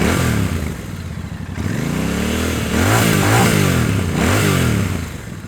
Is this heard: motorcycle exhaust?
yes